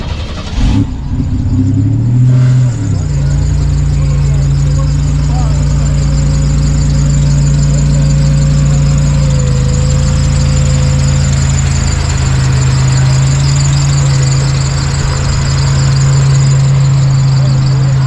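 A 1972 Chevelle with a 427 big-block engine, still being broken in, runs with a loud, steady, deep rumble that holds almost unchanged throughout, with brief rougher sounds near the start.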